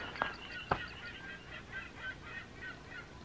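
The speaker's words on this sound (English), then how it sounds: "The seagulls are going nuts this morning." Seagulls call outside on an early-morning desert island campsite, a string of faint honking, squawking cries repeating irregularly with a couple of sharp clicks near the start.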